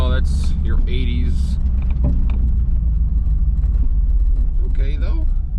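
A rattly 1985 Chevrolet Camaro Z28 drives along a bumpy street, its engine and road rumble loud and steady throughout, with rattles and a voice talking over the interior noise.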